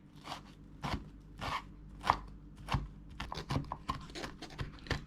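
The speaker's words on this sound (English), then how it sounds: "just kind of chop it up a little bit so it's easier to eat" A knife chopping canned sardines on a board, about a dozen firm, uneven strikes close by, loud and sharp with short gaps, and no voices.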